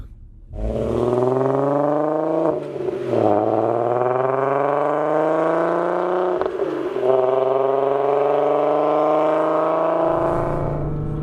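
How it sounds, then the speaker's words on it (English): A Volkswagen Golf R32 with its VR6 engine revs hard through several rising pulls, with brief breaks between them. The engine is close and loud and carries a smooth, climbing harmonic note, with no talk. "One of the great things I love about these VR6 motors is just the sound."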